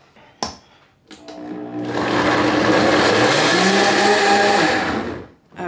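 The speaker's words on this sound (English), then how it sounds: "So I'm gonna do a big scoop of avocado, and we're gonna blend, okay?" A blender blends a big scoop of avocado: a couple of sharp clicks, then the motor spins up into a loud, steady whir for several seconds before cutting off.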